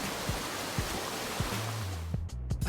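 Steady rushing water from a waterfall in a Halo 5 Forge map, a broad continuous roar heard alone, with a few low thumps and short tonal blips near the end.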